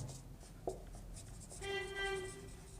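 Marker or pen writing a chemical name on a board during a chemistry lesson, with scratchy strokes and a brief squeak, fairly faint and close.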